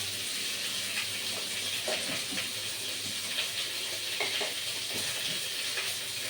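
Mango pieces frying in a pan with salt and turmeric, a steady loud sizzle and hiss with occasional stirring scrapes throughout.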